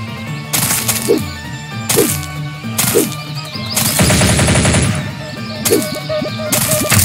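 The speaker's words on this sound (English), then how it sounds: "Assault rifle." An assault rifle fires in the audio game Blood Shed, loud and close, in five separate automatic bursts. Most bursts are short, and one in the middle runs longer.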